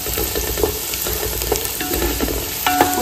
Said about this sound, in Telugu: పల్లీలు ఇంకా పుట్నాల పప్పు ఆవాలు ఇది అన్ని వేసుకున్న తర్వాత కొంచెం మంచిగా ఫ్రై చేసుకోవాలి